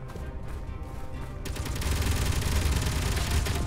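Automated turrets firing in the space sandbox game Space Engineers, dense rapid gunfire that swells louder midway and rolls on continuously, close and heavy with a low booming body.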